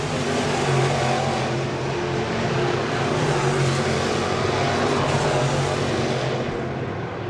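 Modified race cars thunder around the dirt oval at Crawford County Speedway, a loud sustained engine roar with rising and falling revs that fills the whole stretch, no voices heard.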